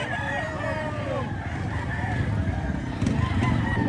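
At a Saturday poultry market in Lipa, Batangas, several roosters crow in drawn-out calls over a busy crowd murmur and clucking, with the crowing fairly close and layered.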